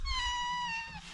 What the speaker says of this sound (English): That's a cat right there too.